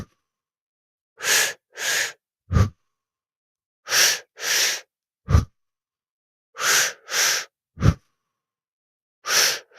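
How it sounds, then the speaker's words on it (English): Slow, deep breaths in a guided breathing exercise come close and clear, several long airy breaths with short gaps and a soft lower puff after each pair, separated by silence. "Just keep breathing for this exercise."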